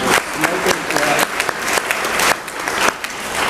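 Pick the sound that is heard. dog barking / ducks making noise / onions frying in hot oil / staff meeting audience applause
staff meeting audience applause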